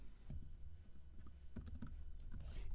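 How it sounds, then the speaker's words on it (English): Code is typed on a computer keyboard, a run of soft quick key clicks with a short pause in the middle, faint and close against a quiet room hiss. "I'm just going to keep on typing it this way"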